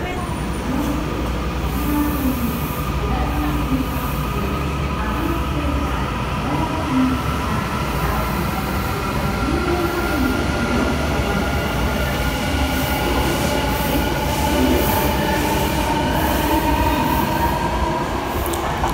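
A Tokyo Metro train pulling into Kita-Senju station, rumbling and clattering continuously up close, with faint squeals from the wheels.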